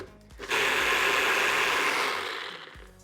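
A small blender churns a thick avocado key lime pie filling: the motor kicks in with a loud, strained whirring roar that holds for about two seconds, then winds down and stops.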